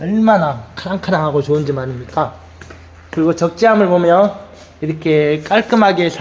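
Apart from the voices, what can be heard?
No everyday noise stands out behind the speech.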